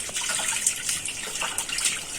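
Water running from an outdoor tap at a village home in Nepal, a steady close hissing gush that splashes continuously throughout without pause and with no voices.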